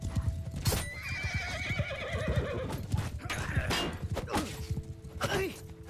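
Horses in a medieval battle game (Mount & Blade II: Bannerlord) neigh and whinny amid clip-clopping hooves, clashing thuds and impacts, busy and moderately loud with faint voices in the mix.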